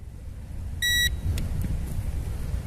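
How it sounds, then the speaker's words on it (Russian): An SG907 quadcopter gives a short electronic calibration beep, a steady tone lasting about a quarter second over low background rumble, followed by faint clicks. "Жмете до звукового сигнала."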